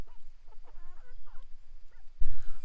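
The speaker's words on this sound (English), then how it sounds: "I come in and I feed it to the chickens." Chickens on a homestead being fed food scraps, with a few scattered clucks and soft calls at close range, followed by a louder thud or rustle near the end.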